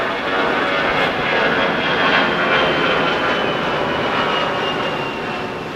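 KLM Boeing 787-10 jetliner taking off at LAX, a loud, steady broadband engine roar at a distance, swelling slightly then slowly easing.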